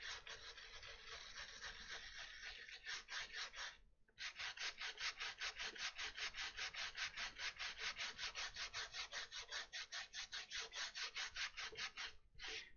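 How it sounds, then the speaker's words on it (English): Bronze brush scrubbing loose honing compound off a hand-whittled wooden wand, a fast steady back-and-forth rasping with two brief pauses, close and loud with no talking. "this bronze brush real quick just to kind of rough up everything and free up any loose"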